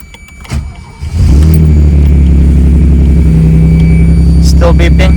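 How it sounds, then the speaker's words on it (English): A Maserati Biturbo's engine cranks and catches after about a second, then settles into a loud, steady idle with rising revs, while a warning chime beeps faintly near the end. "I'm gonna start the car."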